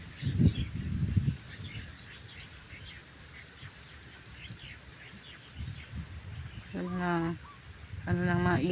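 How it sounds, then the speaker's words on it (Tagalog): Birds out in rice fields around a farmhouse, with goose-like honking calls that ring out clearly in two bursts near the end and softer background chatter between them. "Ano lang mga ibon."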